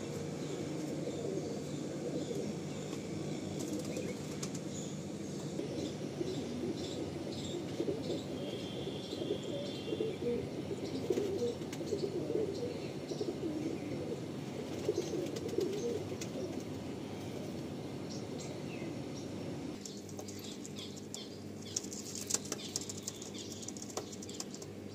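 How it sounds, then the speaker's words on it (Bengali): Tiger line pigeons at a loft in India give a steady, dense murmur of low cooing with wing flaps mixed in, continuous and fairly close, with a slight drop in the activity near the end. "এই পায়রা সেই টাইগার ব্রিডের পায়রা আপনারা দেখছেন।"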